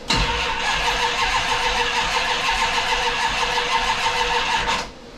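A car engine, a 1970s Plymouth Cuda with a battery needing charge, cranks steadily for about five seconds without catching, a continuous churning whir that cuts off at the end.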